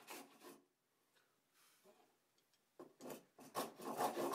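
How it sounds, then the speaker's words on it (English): A freshly sharpened spokeshave shaves end grain on a dovetailed step stool in a handful of short, close, rasping strokes with brief pauses between them. "with the freshly sharpened blade of my spoke shave, and ensuring that I work downhill"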